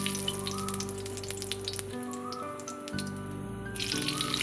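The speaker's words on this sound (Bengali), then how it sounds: "জিরে গোটা গরম মশলা তেজপাতা ফোড়ন দিলাম" Whole cumin, garam masala and bay leaf sizzle steadily in hot mustard oil, a continuous close crackling hiss with faint tonal hum underneath and no talking.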